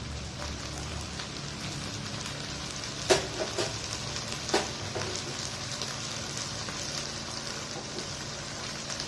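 Beef karahi frying with yogurt in a pan over a high flame gives a steady, close, dense sizzle throughout, broken by a couple of brief sharp clatters midway.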